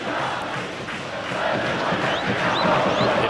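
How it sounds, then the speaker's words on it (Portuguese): Corinthians supporters sing and chant in unison at the Bruno José Daniel stadium during a 2008 Brazilian league match against Santo André, a dense, steady crowd roar filling the whole stretch with no one talking over it. "olha a torcida do Corinthians cantando aqui no Bruno José Daniel"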